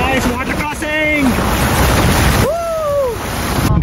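A vehicle fords a water crossing on a Ladakh road near Pangong Tso, water flowing straight from a river. A steady broadband rush of water and wind fills the whole clip, with brief rising tonal calls or voices partway through.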